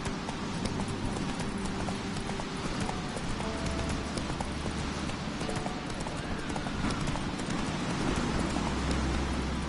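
Roach the horse gallops in The Witcher 3, with steady rhythmic clip-clop hoofbeats running loud and continuous throughout under a dense wash of game ambience and music.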